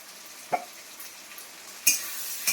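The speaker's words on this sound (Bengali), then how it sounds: "আমি ভালো করে মশলাটাকে কষে নিই" A masala of turmeric, chilli and cumin powders fries in a pan, giving a soft sizzle with a few scrapes from the stirring spoon and a louder burst of frying toward the end.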